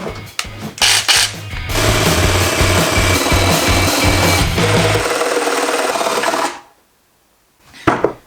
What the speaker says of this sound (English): Now the jigsaw.